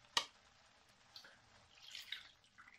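Half a small glass of water is poured into a simmering hake sauce with bay leaves, a faint liquid trickle and splash after a sharp opening tap, quiet and close.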